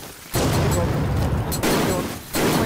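Guns fire in a modded Minecraft server at night while zombies swarm. Bursts of rapid gunfire come in loud, sustained volleys, broken by one short gap.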